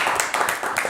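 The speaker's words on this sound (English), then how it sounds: "Let's give him a round of applause." Live audience at a Palmyra High School concussion PSA event applauding a guest, a brief burst of dense, steady clapping from a crowd of hands at moderate loudness.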